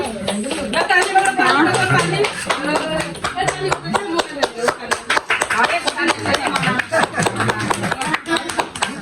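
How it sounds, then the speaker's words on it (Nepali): Children clapping at a surprise birthday celebration, a burst of rapid, fairly close handclaps, mixed with excited voices talking and cheering. "तिमीहरू ताली गर"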